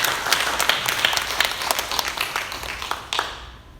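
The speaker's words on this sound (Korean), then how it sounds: "격려의 박수 한번 쳐드리시고" A church congregation at a Sunday worship service claps in encouragement, a dense burst of many hands close by that thins and fades out near the end.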